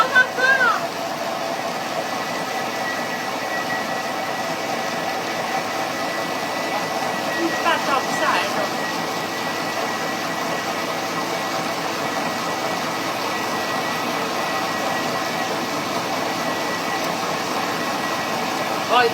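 A kitchen mixer runs nonstop with a steady whirring motor hum that holds an even level throughout.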